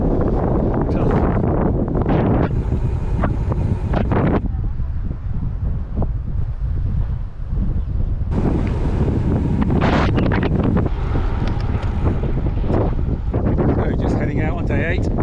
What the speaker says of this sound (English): wind's blowing like crazy already